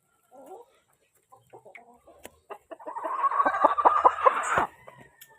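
Roosters and hens at a poultry farm, with scattered clucks followed by a loud, close burst of crowing and squawking that lasts about two seconds before fading to a few soft clucks.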